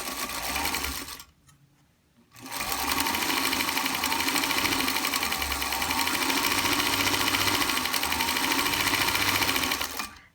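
A sewing machine chain-pieces curved quilt blocks, its motor whirring in a steady close run. The stitching stops briefly for about a second, then resumes and runs continuously to the end.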